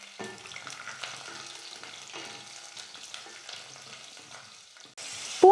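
Garlic cloves fry in sesame oil with mustard seeds for a bitter gourd kulambu. A soft, continuous sizzle with light stirring scrapes is heard up close, and a louder burst of noise comes at the very end.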